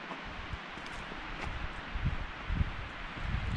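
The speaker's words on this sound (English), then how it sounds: "Wind's blowing." Wind blowing through an old growth forest on a hiking trail in Gifford Pinchot National Forest, Washington, a steady broad rushing hiss of leaves and branches with gusty swells and some low rumble against the microphone.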